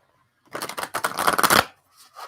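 Oversized oracle cards riffled in a brisk shuffle, a dense burst of quick flapping card clicks lasting about a second, close and clear, then stopping, followed by a faint brief rustle.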